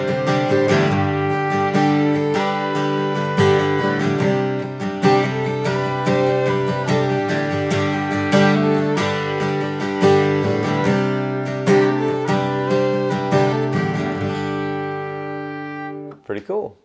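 A dense electric guitar riff plays steadily with bright, sustained distorted chords and quick rhythmic picking, ending in a short abrupt flourish.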